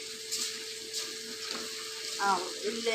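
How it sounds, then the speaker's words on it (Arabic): Rice and lentils stirred in hot oil in a pan, a soft continuous sizzle with scraping stirs and light clinks close by, no talking. "هقلب بقى كده الرز بتاعي في الزيت لحد ما ينشف معايا"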